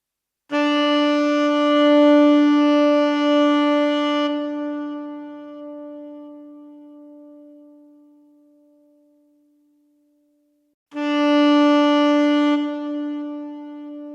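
A synthesized tenor saxophone with a resonator effect holds a long note that slowly fades with ringing resonance, then a second note starts after a silent gap.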